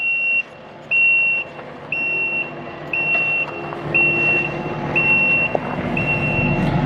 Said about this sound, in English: That is a very deafening beep.